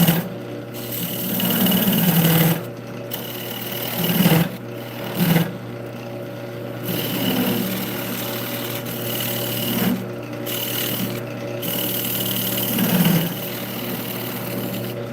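A square nose scraper cutting on a spinning lathe gives a steady machine hum with repeated scraping passes that rise and fall in bursts, broken by brief pauses where the cutting stops.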